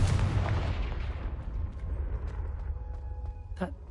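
Confringo fire spell blast in Hogwarts Legacy, a loud booming explosion that rumbles and fades over a few seconds, followed by a brief sharp crackle near the end.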